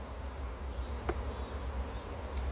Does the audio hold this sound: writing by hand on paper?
no